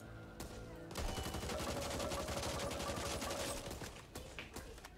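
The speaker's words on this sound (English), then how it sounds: "guns are firing" Rapid video game gunfire starts after a short lull and keeps going as a steady, dense stream of shots, with a faint trailing tail near the end.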